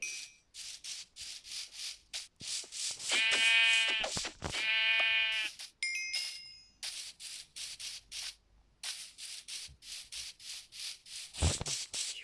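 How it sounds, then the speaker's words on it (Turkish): Two Minecraft sheep bleats ring out clearly amid repeated scratchy rubbing and clicking noises, with a faint game-like tone in the background. "Burası koyun kaynıyormuş ya"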